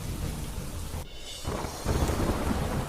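Heavy rain pours over Jhansi in Uttar Pradesh with thunder, a loud, dense, steady roar that cuts abruptly into brief quieter stretches before swelling again, with no voices.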